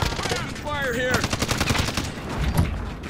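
Bursts of rapid machine-gun fire from a Call of Duty Warzone match crackle loud and close, with brief rattling volleys and a few single shots while players talk over the action.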